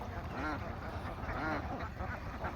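Khaki Campbell ducks quack repeatedly at moderate distance, several rasping calls overlapping in irregular bursts over a soft background.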